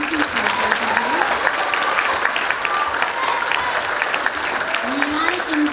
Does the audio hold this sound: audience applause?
yes